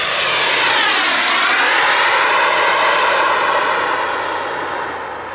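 A Boomerang Nano RC jet powered by a Kingtech K60G turbine flies past with a loud, steady high-pitched whine that shifts in pitch as it passes and fades slightly toward the end.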